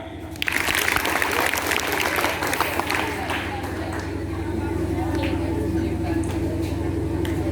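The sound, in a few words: students clapping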